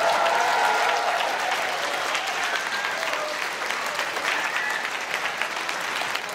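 Sustained applause from the audience at the US Nationals 2012 Rubik's Cube finals as the 3x3 speed solve champion is honoured, a loud, dense wash of clapping that carries steadily from start to end.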